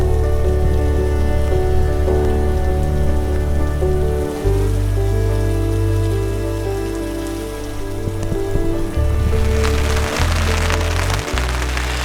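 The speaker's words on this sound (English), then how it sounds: "just listen to the sound of the rain" Steady rain patters on a camper awning outdoors in rugged Oregon canyon country, a continuous dense wash of drops with no voices, growing brighter and more crackly toward the end.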